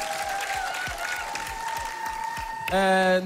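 Studio audience applauding on X Factor Latvia 2017, a dense continuous roar of clapping with a held musical tone over it, ending in a loud sustained chord.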